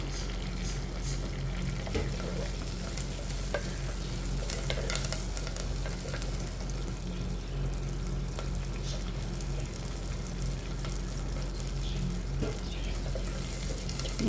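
Curry leaves and onion sizzle and fry steadily in a pan for Tamil mor kuzhambu, a continuous close crackling hiss with occasional stirring scrapes and no voices.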